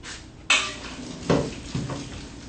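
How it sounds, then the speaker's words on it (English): Cooked pasta is poured into a metal colander, giving a sudden clattering splash followed by further knocks and rattles of metal cookware, close and moderately loud with no talking. "we'll just pour our pasta right in there, and we'll put that onto our platter here"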